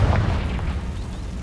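A Confringo spell explodes in the Hogwarts Legacy video game, a deep booming burst that hits at once and rumbles away over a second or so.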